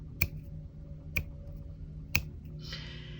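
Three crisp finger snaps spaced about a second apart, with quiet background noise between them; a voice-free human imitation of an insect's answering call.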